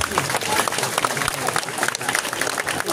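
An audience at a Balinese comedy performance applauds the performers, a thick, busy crowd clapping that rises and dips, with a voice speaking loudly on top.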